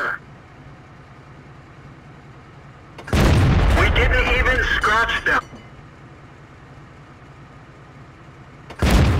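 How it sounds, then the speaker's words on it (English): Type 5 Heavy tank cannon firing in World of Tanks, a single loud, deep boom with a roaring blast lasting about two seconds, followed by quiet and the onset of another blast at the end. "we are going to shoot in Type 5 Heavy just in a moment"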